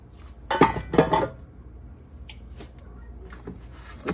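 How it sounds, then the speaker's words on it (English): A homemade bread loaf is worked out of its pan, with two sharp close metallic clanks of the pan and utensil near the start, followed by a few softer scattered knocks and taps in a quiet kitchen. "I'm trying to get the bread out here."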